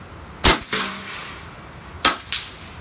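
Two sharp 9mm pistol gunshots a second and a half apart, each followed by a quick echo crack, loud outdoors with quiet between.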